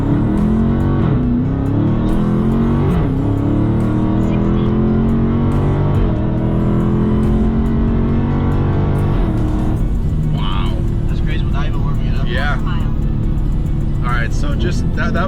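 A Dodge Viper ACR or Challenger Hellcat accelerates hard on a drag strip pre-run without a launch, a loud, continuous rising engine roar up close, with people talking over it.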